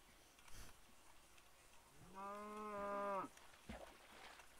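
A cow in a farming video game gives a single drawn-out moo lasting about a second, loud and clear over a quiet background with brief thumps around it.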